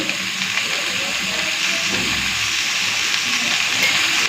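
Bottle gourd and whole bay leaves sizzle in hot oil in a kitchen pan, a loud continuous frying hiss that stays steady throughout.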